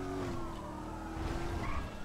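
Car skidding and spinning out during a police chase in a video game, a sustained tire squeal with engine drone over about two seconds, loud and close, with no talk.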